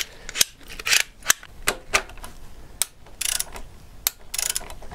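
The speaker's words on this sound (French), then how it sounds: "Autre outil pratique dans les cas-là, c'est le cliquet télescopique." A telescopic ratchet wrench works a rusted bolt near a car's EGR valve, with close, sharp ratcheting clicks in uneven bursts, some in quick rattling runs.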